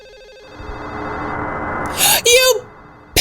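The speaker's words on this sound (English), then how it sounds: "There's a phone ringing somewhere." A telephone rings somewhere in Silent Hill 4: The Room, sounding as short, bright electronic ring bursts over a steady background drone, with sharp game sounds around them.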